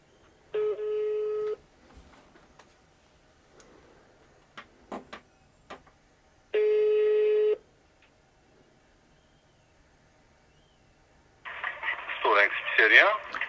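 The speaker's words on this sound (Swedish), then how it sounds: "Ringa ner till den lokala pizzerian och beställa kebabtallrik." Telephone call to a local pizzeria: two long ringing tones about six seconds apart, with scattered dialing clicks and handling taps between them, then a person answers and speaks over the line at the end.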